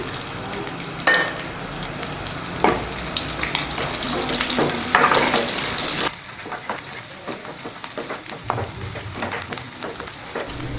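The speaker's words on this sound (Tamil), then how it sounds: "இப்போ அதே எண்ணெயில் ஒரு பெரிய வெங்காயம், 2 பச்சை மிளகாய் இப்படி நீட்டமாக கட் பண்ணி, கொஞ்சம் கருவேப்பிலை அதே இதில் சேர்த்துக்கலாம்." Sliced onion, green chillies and curry leaves sizzle hard in hot oil already used for frying chicken. Scrapes and stirring clatter come through, loud at first and then settling into a softer fry.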